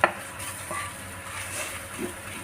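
Egg being added to cooked rice in a pan and stirred with a utensil, giving soft scraping and light clinks over a faint sizzle.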